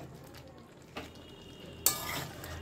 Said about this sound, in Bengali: আর একবার ভালো করে মিক্সড করে নেব